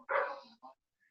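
A hungry dog gives one short, fairly faint bark followed by a softer second yelp, alone with no other sound.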